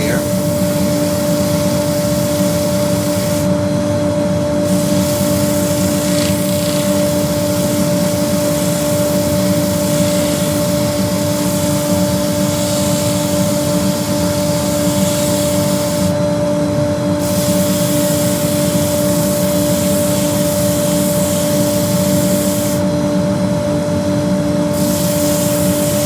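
A cherry root ball spinning on a wood lathe is sanded with 100 grit abrasive, giving a loud, constant rushing hiss over a steady motor hum with brief dips in the sanding noise.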